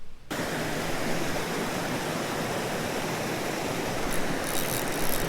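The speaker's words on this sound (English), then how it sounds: "There's a cool little waterfall up here" A small waterfall on a creek pours in a steady, close broadband rush that holds unchanged throughout, with a slightly brighter splash near the end.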